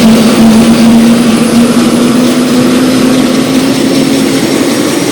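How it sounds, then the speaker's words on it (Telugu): A helicopter on the route to Kedarnath in the Himalayas, a loud continuous engine and rotor drone with a steady low hum, heard close up as from inside the cabin, with no talk. "హెలికాప్టర్"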